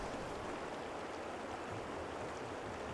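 The Drac, a wild mountain torrent, rushes along in a continuous broad hiss of flowing water, faint and steady throughout.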